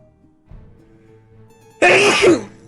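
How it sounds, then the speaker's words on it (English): A single loud sneeze bursts out sharply after a quiet indoor stretch of faint background hum, ending with a brief trailing breath. "I gotta sneeze."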